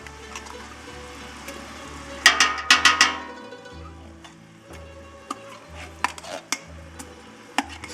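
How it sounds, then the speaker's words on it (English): Tomato paste being spooned out of a can for homemade spaghetti sauce with meatballs, giving a run of sharp metallic scrapes and clinks in bursts, close and fairly loud, with no talking. "This one here, you're going to want to spoon it out."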